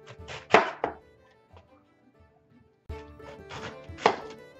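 A knife cuts through a head of cabbage into wedges, with a few crisp, crunching chops and thuds on a cutting board, a quiet pause in between, then another burst of close, loud slicing.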